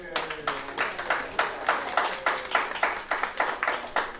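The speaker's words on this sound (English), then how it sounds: "please help give them a round of applause" Applause for panelists sounds as a steady, evenly spaced run of moderate claps, like a small group clapping in rhythm, with faint voices underneath.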